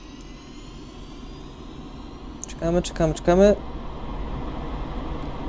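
Su-25T jet engines in the DCS flight simulator spool at full throttle with the brakes held, a steady high whine and rumble running under a brief spoken phrase in the middle.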